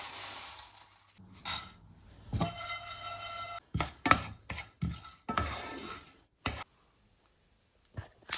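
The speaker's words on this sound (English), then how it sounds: "You'll hear the pumpkin seeds starting to pop." Pumpkin seeds, mixed with chia seeds, toasting in a pan for no-bake granola bars, giving a string of sharp, close pops and crackles against a light sizzle, with stirring scrapes and quiet gaps between bursts.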